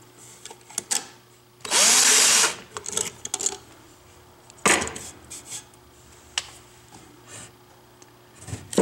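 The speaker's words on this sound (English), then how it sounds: "and just drill right in." A power drill bores into a wood board held in a dowel jig, one loud steady burst of about half a second running up to a second, close to the mic, with faint tool clicks before and after.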